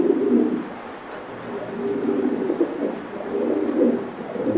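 Domestic pigeons, including beauty homer, racer, satin and king breeds, cooing close by in low, soft, rolling calls that keep repeating in waves without pause.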